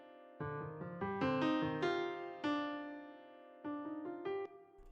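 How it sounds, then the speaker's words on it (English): Purity plugin's acoustic grain preset, played as a dark plugg-style melody in FL Studio: layered, sustained harmonic tones that step through a slow phrase of overlapping chords and notes, clear and alone with no voices. "I'm using the acoustic grain preset and it sounds like this."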